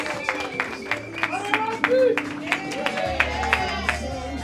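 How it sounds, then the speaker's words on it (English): Steady rhythmic clapping from a few people, mixed with voices and tonal background sound. "Let's give a big hand of applause."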